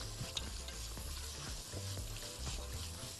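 Carrots and onion sizzle and crackle in a hot frying pan, with steady frying hiss and occasional stirring scrapes throughout, no voices.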